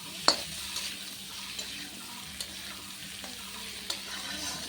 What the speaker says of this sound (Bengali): এখন এগুলোকে হালকা একটু লাল লাল করে ভেজে নেব